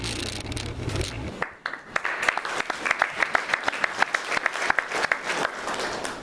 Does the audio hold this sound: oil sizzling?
no